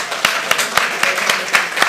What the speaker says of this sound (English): So how about a big round of applause for all of them?